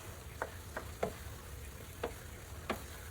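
Eggs and tomatoes being stirred in a frying pan, a soft sizzle beneath a series of sharp, evenly spaced spatula taps and scrapes against the pan.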